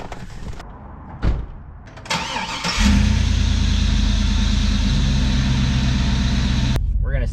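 A car with a 4L60E automatic transmission, fixed for a P1860 code, starts and pulls off. Door and handling sounds come first, then the engine catches and settles into a loud, steady drone close by, with a voice heard over it.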